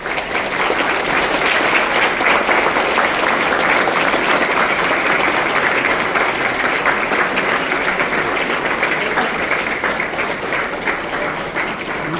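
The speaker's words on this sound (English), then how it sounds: "Please give her a round of applause." An audience at a scholarship event claps steadily and loudly, a thick, even patter of many hands that runs without pause for about twelve seconds.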